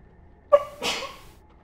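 A single sharp sneeze from a person, an abrupt burst followed by a short breathy release, heard close and alone in a quiet room.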